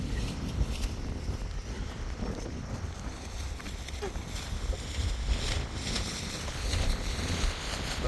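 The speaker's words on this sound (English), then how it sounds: "Oh God, it's so windy and it's raining a little bit." Strong gusting wind on a rainy day outdoors in Canada batters the microphone with a continuous low, rumbling roar that rises and falls slightly throughout.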